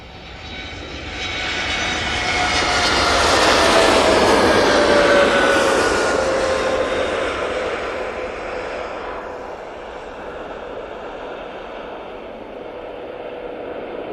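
A Boeing 787-8 Dreamliner departs Manchester Airport, its engine roar swelling to a loud peak with a falling whine as it passes, then fading into a distant rumble, no talking.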